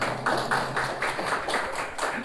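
Audience clapping at an anniversary celebration, a short burst of rhythmic claps in a few close, even beats that sound like a small group clapping in unison.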